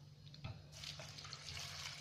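Water is poured onto paper poha (thin flattened rice) in a cup in a home kitchen. A soft, steady splashing trickle runs close by and continues to the end with no talk.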